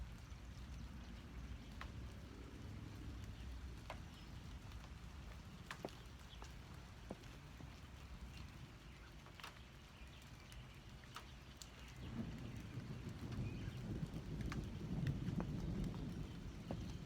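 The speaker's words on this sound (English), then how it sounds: "Oh, it seems to be raining now." Steady rain falls outside with a soft wash of patter and scattered drops, growing heavier and louder near the end. No one speaks.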